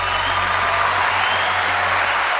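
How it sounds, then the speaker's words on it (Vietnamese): A studio audience claps continuously, a dense even wash of applause filling the moment with no break or voices on top. "Rất nhiều khán giả đằng sau lưng tôi đang vỗ tay"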